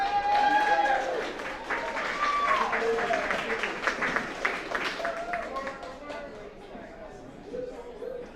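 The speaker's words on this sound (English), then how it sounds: "Round of applause." A show audience claps and cheers in a burst of applause, fading gradually, with voices and whoops mixed into the noisy clapping.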